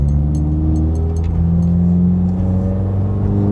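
A flex-fuel tuned Subaru WRX engine accelerates hard through the revs, a loud close-up interior roar with rising harmonic tones as the rpm climbs steadily, with no talk over it.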